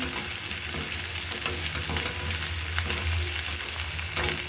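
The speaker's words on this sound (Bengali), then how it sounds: "হালকা একটু লবণ যাতে তেল ছিটে না উঠে সুন্দর করে ভেজে নিচ্ছি" Vegetables frying in hot oil with a little salt, a steady dense sizzle with crackling pops and soft stirring scrapes running throughout, close and continuous.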